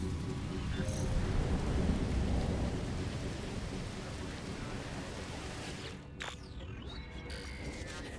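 In the game No Man's Sky, an extreme storm pours down, with steady heavy rain hissing and thunder rumbling low and continuous, and a brief crackle near the end.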